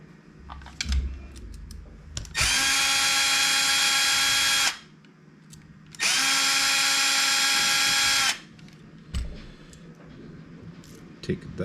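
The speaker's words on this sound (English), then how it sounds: "we need to remove these two screws" Power driver removing screws from an RC chassis, heard as two loud sustained motor whines of about two seconds each, with quieter handling clicks before, between and after them.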